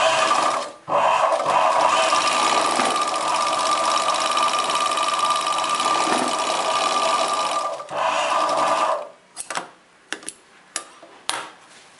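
A sewing machine stitches together the join of chudidar pant fabric, humming loudly and steadily for several seconds with one brief pause, then stopping and giving a few short separate bursts near the end.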